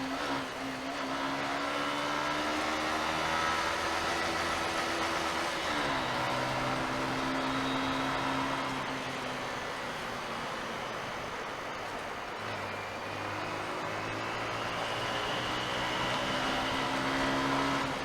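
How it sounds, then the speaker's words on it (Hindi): A motorbike engine running hard at high rpm in second gear inside a tunnel, a steady loud drone with shifting pitch and reverberant traffic noise around it, no speech. "देखो दूसरे गेयर पे भगा रहा हूँ, ज़्यादा आरपीएम पे।"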